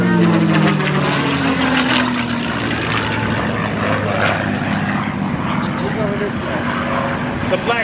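A P-51 Mustang propeller fighter flies at the 2025 Westmoreland County Airshow, its piston engine a steady, loud droning roar that stays constant throughout while an announcer talks over it.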